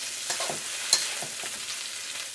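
Onions and garlic frying in a pan for garlic pork while being stirred, a soft steady sizzle broken by a few light scraping strokes and one sharp clink of the utensil, close and fairly quiet, no talking.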